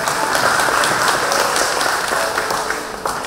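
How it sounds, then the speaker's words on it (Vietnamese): Congregation applauding during a thanksgiving Mass at a Catholic parish church, a steady wash of many hands clapping that holds throughout and fades slightly toward the end. "Xin cộng đoàn dành một tràng pháo tay để chào đón."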